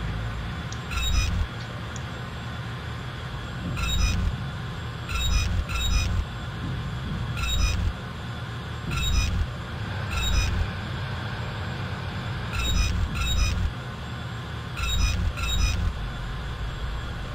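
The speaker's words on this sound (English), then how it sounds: "Functioning stoker jet controls." Stoker jet controls on a New York Central J-3a Dreyfuss Hudson steam locomotive in Train Simulator 2020 click and thump in short repeated pairs and bursts, loud and close over a steady rumbling cab background.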